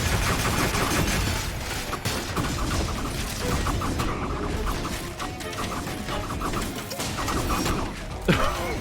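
Grenades and combat noise in the game F.I.S.T. fill the scene with a dense, continuous clatter of blasts, crashes and mechanical rattles at steady loudness, with a sharper hit near the end.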